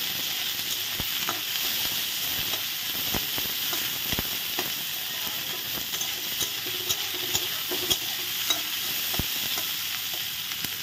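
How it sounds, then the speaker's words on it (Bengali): Onions fry in oil in a wok, giving a constant close sizzle broken by sharp scraping clicks as they are stirred, steady throughout without speech. "পেঁয়াজটা দেখো ব্রাউন কালারের হয়ে এসছে অনেকটা, আর একটু ভেজে নেব"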